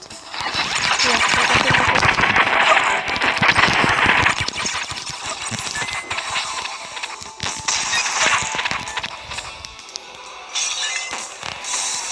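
Rapid bursts of video game gunfire crackle loudly and continuously, with dense repeated shots that thin out toward the end.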